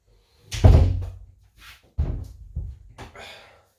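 A classroom door swings open and thuds against its frame several times in short bursts, with heavy low knocks followed by softer rattles, close and fairly loud.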